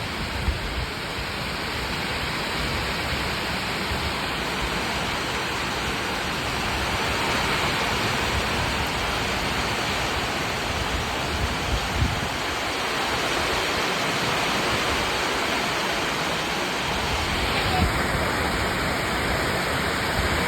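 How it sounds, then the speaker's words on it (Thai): Rain pours down with wind in Trakan Phuet Phon district after a long drought, a steady, dense hiss that stays loud and even throughout, with no voices. "ลมก็มีฝนก็มา"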